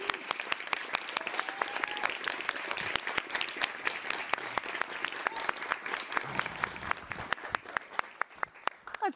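A live audience at a KQED Live event claps steadily and warmly to welcome chef Bryant Terry, a dense, sustained round of applause that continues throughout.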